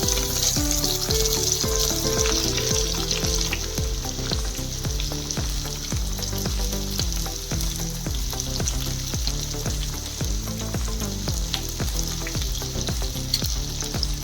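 Chopped onion sautéing in oil with asafoetida and bay leaf in a pan for vegetable pulao, giving a steady, close sizzle for the whole stretch, with tonal music playing underneath.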